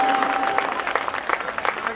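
An audience at a devotional Bhagwati jagran in a Shiv temple hall claps loudly together, a dense, sustained burst of applause with faint voices underneath.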